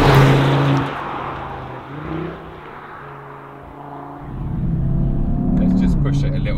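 An Audi TT RS Iconic Edition accelerates along a road, its engine note climbing and dropping through gear changes in a loud, close, rising drone, with a person talking over it.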